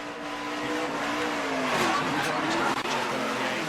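A race car in the 2018 ARCA event at Daytona skids and slides through a crash, tires squealing over a steady, loud engine roar that holds for several seconds.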